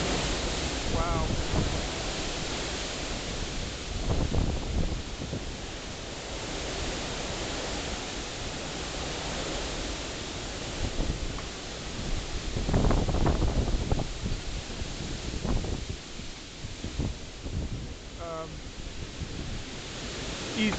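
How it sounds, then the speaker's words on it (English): Hurricane Sandy's wind roars in heavy, buffeting gusts against the microphone, a loud continuous rush that surges and swells over the stretch with occasional thumps and no speech. "Easily over 100 miles an hour, that gust."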